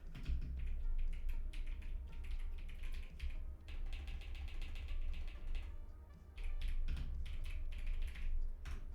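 Computer keyboard typing at a drawing setup, rapid irregular clacking keystrokes in bursts with brief pauses, close and fairly quiet, with no talking.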